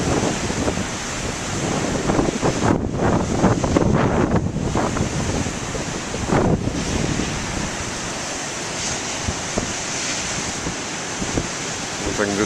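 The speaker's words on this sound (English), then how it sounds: "I'm going to hold the microphone on the waves, but I'll still get close up to the waves." Big ocean waves crash and surge near the shore, with heavy wind buffeting the handheld camcorder microphone in a constant loud roar and gusting rumble throughout.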